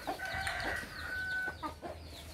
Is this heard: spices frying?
no